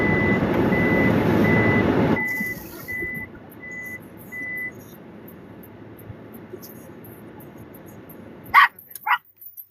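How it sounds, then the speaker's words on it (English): Dogs barking near a vehicle: a truck rumbles and reversing beeps sound first, then a couple of sharp, loud barks burst out near the end. "what's up with all these dang dogs?"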